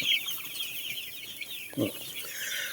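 Chickens cluck softly in a busy yard, with chirpy background calls and a brief lower-pitched cluck close by.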